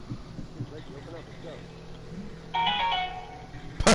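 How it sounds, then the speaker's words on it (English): A phone ringtone in the Infamous Second Son video game cuts in partway through as a bright, tonal electronic ring. It follows quiet background murmur and ends with a sharp burst. "your phone rang"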